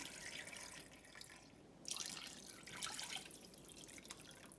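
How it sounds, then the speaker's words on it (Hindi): Water poured from a glass into a clay pot of mutton kunna, a faint, soft splashing and trickling that swells in short pours against a quiet kitchen background. "फोर गिलास वाटर डाला है।"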